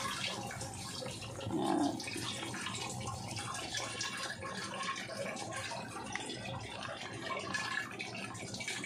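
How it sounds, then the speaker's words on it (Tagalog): Coconut milk is poured into a cooking pot of string beans and shrimp, giving a soft, faint, continuous splashing pour. One brief spoken word comes just before it. "Lagyan na natin ng gata."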